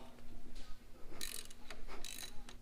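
A ratchet wrench clicks in short bursts while loosening bolts on the engine of a twin-turbo 3000GT VR4 during cam gear disassembly, quiet and close with a faint steady hum beneath.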